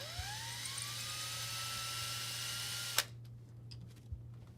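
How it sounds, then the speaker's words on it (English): A power drill with a 1/8 inch bit bores holes during a MAAX Utile shower installation, its motor whining steadily and rising in pitch for about three seconds before abruptly stopping, leaving a low hum and faint clicks. "Drill the holes with a 1/8 inch drill bit."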